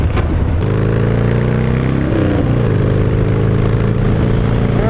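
A Harley-Davidson AMF Ironhead Sportster chopper lugging in fourth gear around 40 mph while riding, its loud close engine drumming steadily with a rough low throb and a slight pitch shift midway.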